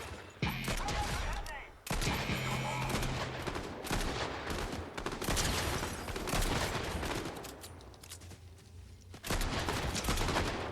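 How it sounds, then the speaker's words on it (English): Gunshots ring out in a Fortnite match, a slow, chunky pistol among other sharp cracks and bursts, loud and close, with several abrupt hard shots across a dense stretch of game noise. "slow, chunky pistol"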